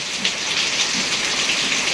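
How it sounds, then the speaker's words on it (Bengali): Steady rain falls in a village, a dense even hiss of drops pattering on surfaces, loud and continuous with no voices. "বৃষ্টি নামতেছে"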